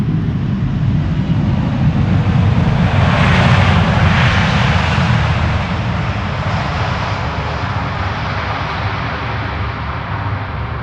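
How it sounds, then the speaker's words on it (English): Landing airliner at Amsterdam Schiphol roaring as its jet engines spool up with thrust reversers, a loud, broad rumble swelling to a peak then slowly easing, close by with no voices over it. "Come on, spool up those reversers."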